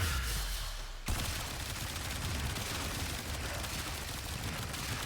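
Dense, continuous gunfire in the video game Warframe while playing a Frost build, a loud sustained barrage with a sharp onset about a second in and heavy overlapping shots throughout.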